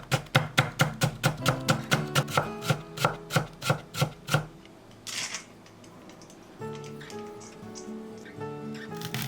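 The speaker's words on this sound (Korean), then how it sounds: "당근 3분의 1개는 작게 썰어주고" A knife chops a carrot quickly on a cutting board, about a dozen sharp rhythmic strikes, then the chopping stops and softer kitchen sounds follow.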